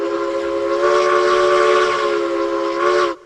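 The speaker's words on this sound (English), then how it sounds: "Oh, that whistle." A steam locomotive whistle in the video game Railroads Online blows one loud, steady chord-like blast for about three seconds, then cuts off abruptly.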